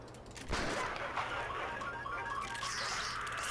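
Shotgun gunfire in the prison-management game Prison Architect: a sharp burst lands early, followed by a dense, continuous clatter of noisy, crashing game sound with no talk.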